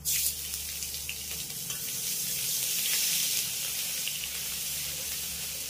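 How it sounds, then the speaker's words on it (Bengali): Whole spices frying in hot oil for a ridge gourd curry give a steady, close sizzle. The crackling hiss runs continuously throughout with no talk. "এবার আমি এই ফোড়নগুলোকে খুব সুন্দর করে ভেজে নেব।"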